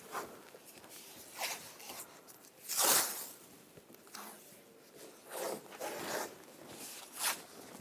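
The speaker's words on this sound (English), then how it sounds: "Now we're going to use some masking tape and tape up the window." Masking tape rips off the roll in loud zipping pulls and gets pressed onto the window of a 2014–2018 GMC Sierra pickup, with repeated tears spaced a second or two apart up close.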